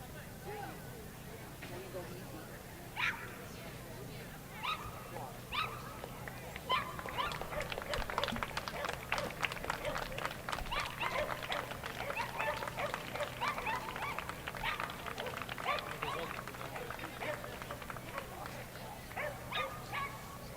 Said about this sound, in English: And the wire Fox Terriers were judged by Judy Halbeck.